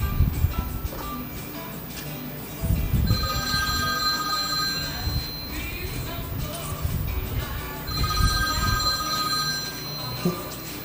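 A telephone rings in repeated electronic bursts over background rustling and movement, moderately loud and near.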